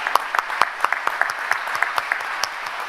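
Church congregation applauding at a Friday all-night worship service, a steady wash of many hands clapping with sharp individual claps standing out, fairly close and continuous for the whole stretch.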